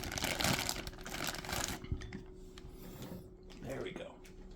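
Crinkling plastic bag rustles in bursts close by, loudest early on, with handling noises and a voice talking over it.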